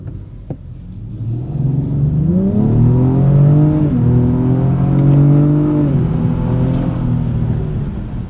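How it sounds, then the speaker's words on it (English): A 2024 Acura TLX Type S 3-liter V6 engine revs up and settles, rising in pitch with a gear-like shift midway, loud and close with a deep rumbling tone. "This 3-liter V6 is an absolute sweetheart. It sounds great."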